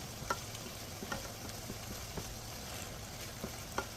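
Fish being coated and turned in sauce in a pan, a soft continuous sizzle with regular light taps and scrapes of a utensil every half second or so, close and fairly quiet.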